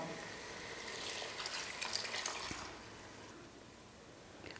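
Water poured from a cup into a cooking pot of basmati rice and coconut milk for brinji, a soft steady splash lasting a couple of seconds, then quieter trickling, with no voices.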